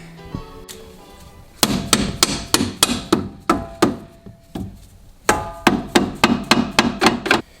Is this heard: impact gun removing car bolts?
yes